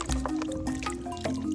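Water pouring and splashing while cassava pieces are washed for abacha in an African home kitchen, a continuous close liquid pour with small drips and clatter, alone without talk.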